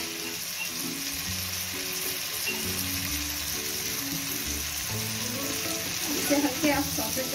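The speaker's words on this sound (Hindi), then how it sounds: "इसे हल्के आप सौते कर लीजिएगा।" Vegetables for a homemade oven-free veggie pizza sauté in a pan with salt and chili flakes, giving a steady close sizzle and frying hiss throughout, with faint music-like tones and some stirring clatter near the end.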